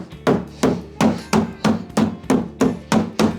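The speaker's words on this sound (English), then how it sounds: "I can beat on this thing with a hammer" Ten evenly spaced hammer blows strike a hard, hollow Lasfit truck bed liner in a steady rhythm, loud and close, each with a short ringing thud.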